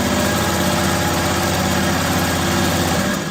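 A sewing machine stitches fabric pieces together, its motor giving a steady, close, even hum that runs without pause and fades slightly at the end.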